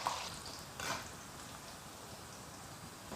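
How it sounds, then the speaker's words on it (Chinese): Onion and ginger slices frying in a generous amount of hot rapeseed oil for a Sichuan home-style dish, giving a steady, close crackling sizzle with a brief louder burst near the start. "菜籽油炼熟过后，下入洋葱和姜片，油一定要多一点"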